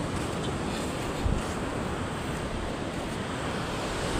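Steady roar of strong wind and sea waves washing continuously, with a brief gust buffeting the microphone midway.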